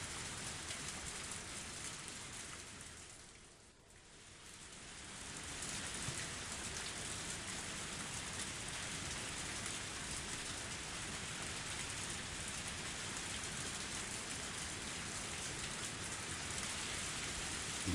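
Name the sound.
pouring rain in video game Higurashi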